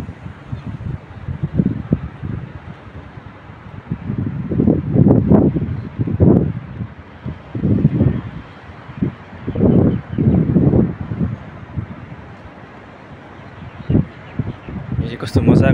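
Cold wind blowing outdoors beside an apartment building in Sydney, loud gusts surging and fading in uneven waves against the microphone, with a voice speaking at times.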